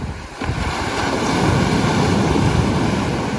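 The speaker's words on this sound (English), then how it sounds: "It's crazy how these waves are massive." Large ocean waves surge onto the shore in Bermuda, a loud, steady roar of surf mixed with heavy wind buffeting the microphone, with no voices.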